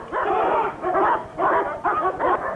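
Police dogs bark in repeated bursts, several rough barks with short gaps, while armed riot police surround a public jail building in São Bernardo do Campo, heard loud and fairly close.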